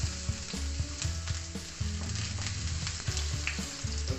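Chopped garlic fries in a little oil in a clean pan, giving a loud, steady close-up sizzle broken by frequent stirring scrapes.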